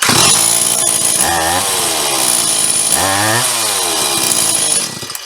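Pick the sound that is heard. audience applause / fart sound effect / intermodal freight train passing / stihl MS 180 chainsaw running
stihl MS 180 chainsaw running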